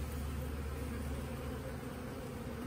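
Honeybees from a week-old swarm buzzing in an open backyard hive, a continuous dense drone that stays close and even throughout, with no voices.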